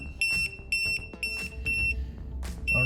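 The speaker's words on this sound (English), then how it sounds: "So that's the fast leak alarm." A tire pressure monitoring system sounds its fast leak alarm for a front right tire: loud, shrill electronic beeps in quick repeated bursts, steady and close, with no talking.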